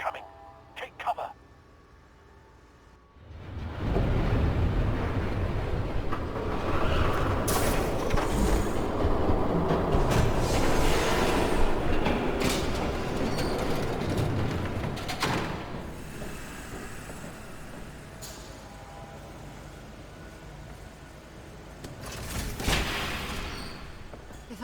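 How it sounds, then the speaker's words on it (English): A train rumbles in from near silence in Batman The Telltale Series, growing loud and holding a steady clattering roar for many seconds before easing off, with a voice speaking over it. "There's a train coming."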